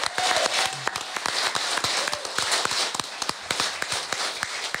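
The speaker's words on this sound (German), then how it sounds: "Ein Applaus von uns mal" A live audience at a Low German podcast recording claps steadily, a dense patter of hand claps at moderate volume lasting throughout, with sharper individual claps standing out near the front.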